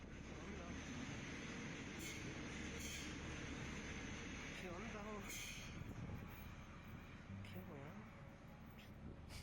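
Train noise at a platform in San Bernardo, a steady rumbling roar with faint wheel squeals, heard distantly under continuous talking and a narrator's voice.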